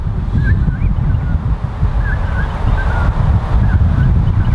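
Strong wind gusting across an open golf course, a loud continuous rumbling roar buffeting close by, with faint bird calls far off.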